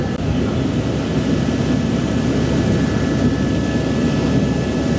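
A helicopter heads through a windy mountain gorge on a route from Kailash, its loud steady engine and rotor roar heard from inside the cabin, continuous and unbroken, with no talk.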